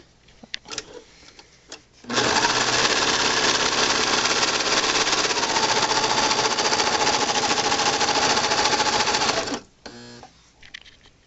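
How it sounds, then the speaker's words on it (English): A serger sewing machine stitching and trimming fabric for valentine snack bags runs in one loud, steady burst of about seven seconds, with a rapid mechanical whir and clatter, after a few faint handling noises and before it stops. "We've got the serger where it cuts."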